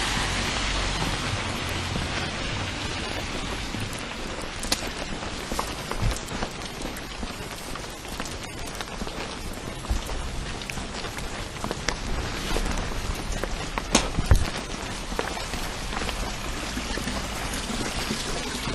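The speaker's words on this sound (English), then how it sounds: "It's rain." Heavy rain pours down steadily and close by, a dense continuous wash of drops on surfaces with no pauses, carrying on alone with no talking throughout.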